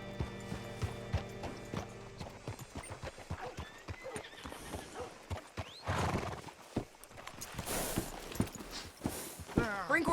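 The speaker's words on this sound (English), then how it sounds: "Hitch your horse up here." A horse in Red Dead Redemption 2 clops its hooves in an uneven walking rhythm and gives a whinny and snorts, with a person speaking over the hoofbeats.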